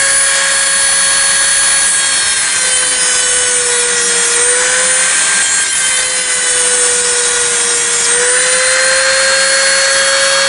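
A Dremel rotary tool grinds the front sight of a Ruger LCR revolver, giving a loud, steady high-pitched whine that runs unbroken for about ten seconds, its pitch dipping slightly a couple of times under load.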